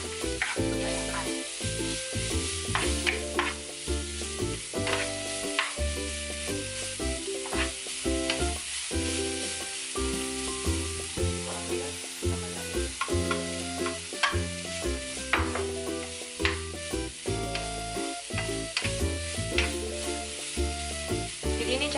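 Chilies stir-fried with beef in a pan, a busy close sizzle running throughout with constant clattering scrapes and knocks of a spatula against the pan at an irregular, brisk pace.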